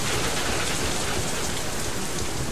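Rain in the video game Far Lone Sails: a dense, loud, continuous hiss of steady rainfall, unchanging throughout, with no voices.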